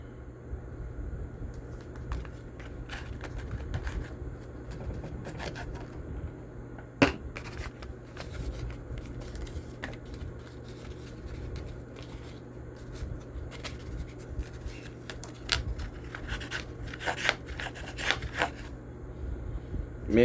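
Sandpaper rubs quietly back and forth to prepare metal before soldering, a soft steady scratching with a few light clicks and knocks.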